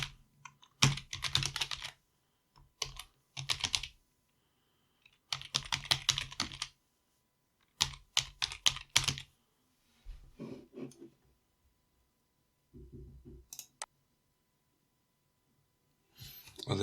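Bursts of rapid typing of a password on a laptop keyboard, crisp clicks in short runs separated by pauses, close to the listener, with a few softer taps near the end.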